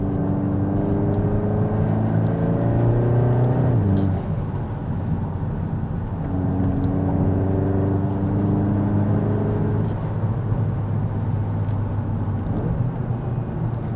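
A VW Golf R Estate, the Mk 8.5 model, drives with engine drone rising through the gears, then a sharp drop with rev-matching blips on the downshifts, heard from inside the cabin over steady road rumble.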